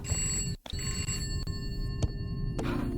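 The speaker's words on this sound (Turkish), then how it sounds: "Üst katta telefon çaldı." A telephone rings upstairs in a horror video game, its bell tone repeating steadily at moderate loudness over a low ambient rumble, with short breaks between the rings.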